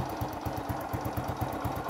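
A 2003 Honda Super Dream motorcycle engine runs close by with an even, rapid thumping pulse, steady and fairly quiet, with no talking.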